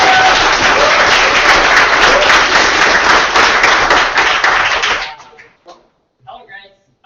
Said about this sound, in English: Okay, another round of applause for last team now.